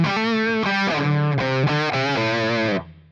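A few distorted electric guitar chords and notes through an Amplitube 5 Dual Rectifier amp simulation with the compressor bypassed, played loud and close, then a chord rings out and cuts off near the end.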